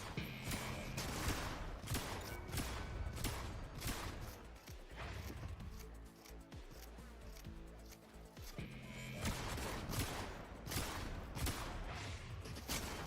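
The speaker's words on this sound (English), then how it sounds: "And so I'm gonna shoot this guy in the head." Video game gunfire comes in fairly faint bursts of rapid cracking shots, easing off briefly in the middle before picking up again.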